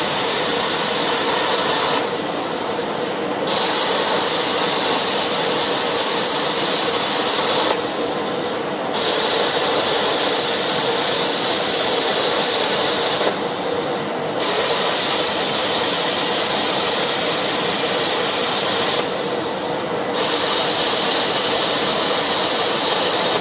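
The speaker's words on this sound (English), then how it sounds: "I can go back with the plasma arc and wash all those away" Hypertherm Powermax45 XP plasma cutter gouging away spot welds: a loud, steady roaring hiss of the arc runs almost continuously, broken by four short pauses spaced several seconds apart.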